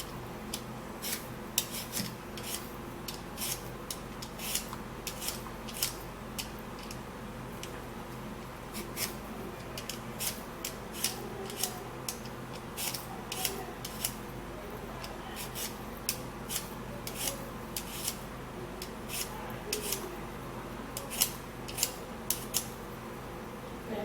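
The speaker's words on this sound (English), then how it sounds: "we're going to first of all peel a potato" A potato is peeled by hand, giving steady rhythmic scraping and rasping strokes that repeat for a long stretch, close up and fairly quiet over a faint hum, with no talking.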